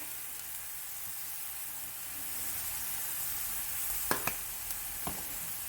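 Meat sizzles in a hot pan for cheesesteak sliders with caramelized onion and garlic powder, a steady bright frying hiss with a few sharp pops and stir scrapes near the end.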